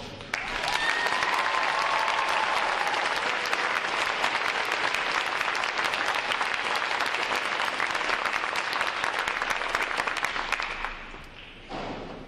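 Sustained applause from a large audience at a U.S. Navy recruit graduation ceremony, broad dense clapping with a few thuds, continuing steadily before fading away near the end.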